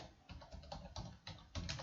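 Fingers type a worksheet name on a computer keyboard in Excel, a quick run of soft, rapid keystrokes clicking close by with no talking.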